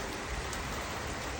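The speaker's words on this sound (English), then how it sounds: "It's raining outside." Dense, even hiss of steady rain falling outdoors, a continuous wash of drops with no other sounds.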